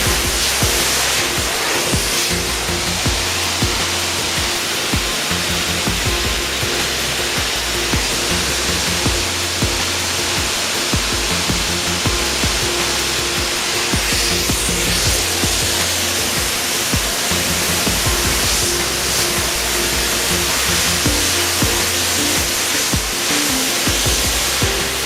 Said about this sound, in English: I will switch the machine back to rinse.